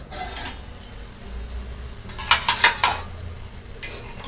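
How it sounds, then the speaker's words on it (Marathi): A few bright metallic clinks and scrapes of a lid lifted off a cooking pot of stuffed brinjal curry, over a soft kitchen background. "मी आता झाकण उघडणार आहे."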